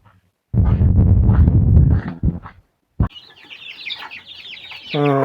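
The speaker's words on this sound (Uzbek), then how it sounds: "Hozir ketadigan jo'jalarni ko'rsatib o'taman." A burst of rough, noisy rumble gives way to a high-pitched chorus of many chicks cheeping close by, continuous and busy.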